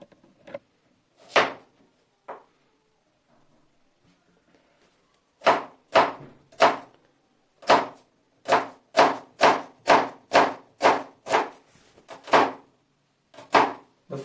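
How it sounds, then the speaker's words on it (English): Knife finely chopping onion on a cutting board: a few sparse cuts, a pause, then a steady run of crisp, close chops. "The first cut is fine chop of onion."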